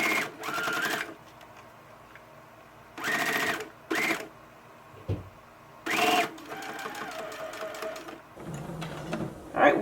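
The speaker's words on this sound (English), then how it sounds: "I'm going to lower my needle and begin sewing. No need to back stitch. And I'm going to keep sewing until I reach the other end of the pocket." A sewing machine stitches the lining of a bag pocket in short, clattering bursts of rapid needle strokes separated by quiet pauses, close and fairly loud.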